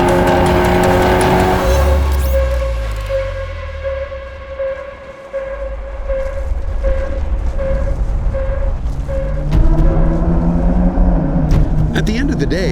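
A Dodge Charger SixPack launches hard, its loud exhaust roaring and climbing in pitch as it accelerates away, with a brief tire chirp at the start and the engine note staying loud and close.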